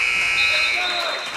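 A basketball end-of-period buzzer at a junior varsity game between Wilson Christian and Grace Christian sounds as a loud, steady electronic tone for the full moment, with crowd noise and talk beneath it.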